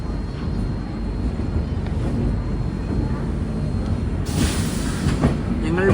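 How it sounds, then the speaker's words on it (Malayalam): Humsafar Express train pulling into Bhubaneswar station, a steady loud rumble of wheels and carriages throughout, with a brighter hiss of brakes or air rising near the end. "ഒഡീഷയുടെ തലസ്ഥാനമായ ഭുവനേശ്വറിലേക്ക് ഇതാ ട്രെയിൻ എത്തുകയാണ്."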